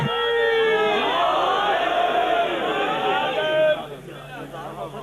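A large majlis audience chants a religious slogan during Muharram in loud, massed unison voices that hold steady for almost four seconds, then drop away into quieter crowd murmur.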